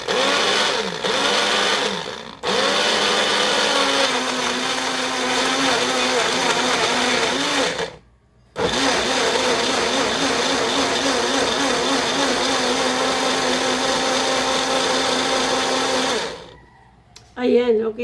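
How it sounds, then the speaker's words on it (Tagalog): Electric blender chopping herbs for a liver and kidney detox drink, a loud steady whirring grind running for long spells with brief pauses between bursts. "Ito, i-blender ko na siya."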